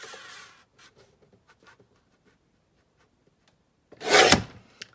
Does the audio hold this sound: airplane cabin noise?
no